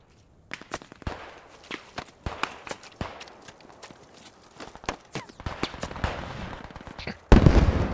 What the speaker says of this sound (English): They're shooting at me, so you know.